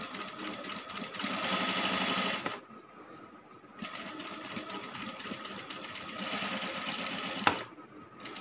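A sewing machine stitches cloth with a steady, close whirring buzz. It runs in two long bursts with a quiet pause between them. A sharp click comes near the end.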